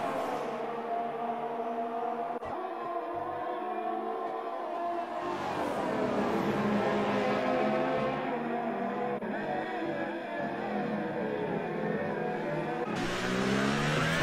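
Formula 1 race car engines in the F1 2018 video game, whining loud and steady, with pitch rising and dropping through gear changes and several cars overlapping.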